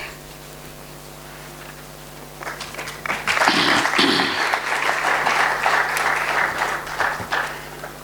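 Church congregation breaking into applause after a quiet, humming start; the clapping swells loudly and stays dense and sustained, with faint voices mixed in.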